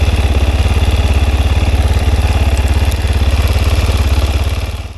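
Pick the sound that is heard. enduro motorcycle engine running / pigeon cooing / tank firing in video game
enduro motorcycle engine running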